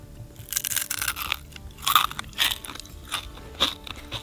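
Loud, close crunching bites on a fried scorpion, a series of crisp cracking bursts spaced unevenly, with chewing between them.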